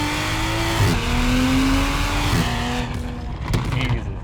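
A tuned 2021 Toyota Supra making around 500 horsepower accelerates hard, its engine revving up through rising pitch sweeps with brief drops at gear changes, loud and close from inside the car.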